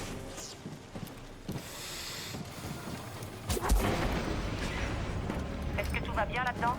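Blaster fire and mechanical clatter in Star Wars Jedi Fallen Order, with sharp booming shots and rattling effects layered over game ambience and talking voices at moderate level.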